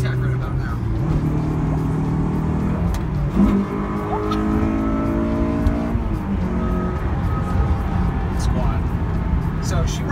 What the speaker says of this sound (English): we're gonna hit some VTEC right about now.